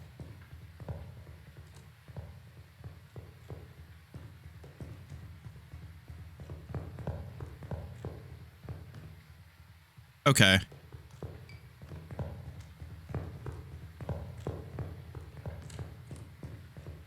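Ghost footsteps in Phasmophobia, a long run of steady, slightly slow thudding steps with a low hum beneath, broken once by a brief loud burst partway through; a voice speaks briefly.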